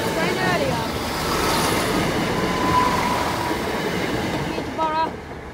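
Steady rumbling roar of a train rolling past a level crossing at Sleaford North nearby, continuous throughout with faint squeals near the end.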